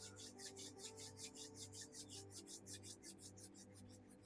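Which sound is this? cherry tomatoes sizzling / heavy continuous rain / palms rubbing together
palms rubbing together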